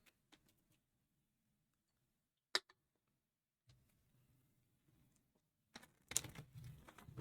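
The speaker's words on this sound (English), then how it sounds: "So give it a good shuffle because they have never been shuffled before." A brand-new deck of Tiny Epic Game of Thrones cards is shuffled: a few scattered soft taps and clicks, then a dense, quiet riffling patter near the end, with no talk.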